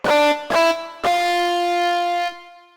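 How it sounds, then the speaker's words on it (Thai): Sampled electric guitar tone from a Yamaha SF2 soundfont, heard as three sustained notes: two short plucks half a second apart, then a longer held note ringing about a second and a half before cutting off, with no voices. "กีตาร์ไฟ"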